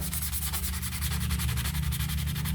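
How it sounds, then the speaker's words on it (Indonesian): Sandpaper scrubs rust off a machete blade, a steady rhythmic rasping of quick repeated strokes, close and loud throughout with no voices. "ini diamplas ya. Dari grit yang paling kasar"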